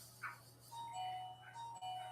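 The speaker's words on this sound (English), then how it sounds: "I heard my bell." A shop bell rings twice with bright, brief chimes near the start and middle, over a steady low electrical hum in a quiet room.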